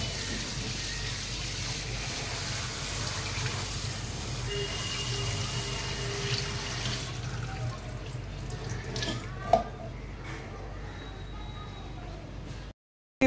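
Water runs from a tap and splashes steadily over fresh chhana (paneer curds) in a kitchen strainer, a continuous close gush lasting most of the clip before cutting off, with a brief clatter near the end.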